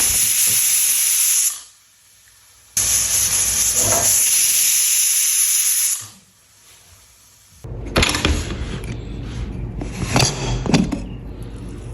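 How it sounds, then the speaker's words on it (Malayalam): A pressure cooker cooking chicken lets off loud, steady hissing whistles in two long bursts separated by short quiet gaps, followed by a rougher, more mixed stretch of steamy noise. "രണ്ട് വിസിൽ അടിക്കുന്നവരെ നമുക്ക് കുക്ക് ചെയ്യാം."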